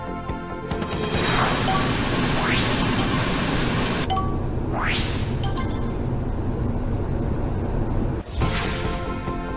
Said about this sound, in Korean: 주방의 소음도